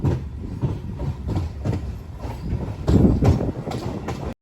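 Nidadavole–Narsapur–Vijayawada MEMU train running along the line, a steady rumble with rhythmic clickety-clack of wheels over rail joints, close and continuous throughout.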